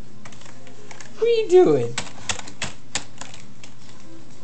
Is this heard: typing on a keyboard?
yes